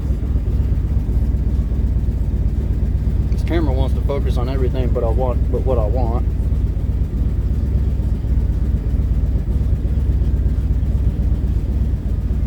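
A car engine idles steadily in cold weather while warming up, with a possible exhaust leak and worn spark plugs. A low, continuous rumble runs throughout, and someone speaks briefly over it near the start.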